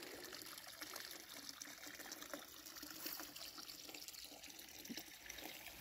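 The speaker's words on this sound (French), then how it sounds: "Là, ce qu'on entend, c'est une source. C'est une des grosses sources." Water from a large natural spring beside a pond pours out in a steady, strong flow, a continuous broadband rush with no talking over it.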